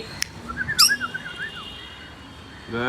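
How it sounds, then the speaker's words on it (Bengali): Lovebirds and cockatiels in an aviary give a few sharp chirps and a burst of rising, warbling whistles, close and clear over a soft background hum, with fresh chirping starting at the end. "আপনারও কি টেম সাইজের লাভ বার্ড অথবা কোকাটেল পাখির বাচ্চা লাগবে"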